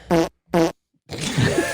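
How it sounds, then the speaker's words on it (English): Farts: two short, loud, buzzing toots in quick succession, then a longer, rougher, sputtering one after a brief pause, all close and distinct. "Were those farts? Yes."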